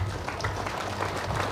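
An audience applauds inside an HKBP church during a resort inauguration, a brief steady burst of clapping from a crowd, fairly close and even in level.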